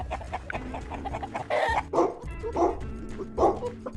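A dog barks in a series of sharp, close woofs at an irregular pace, mixed with a few higher yips and whimpering sounds.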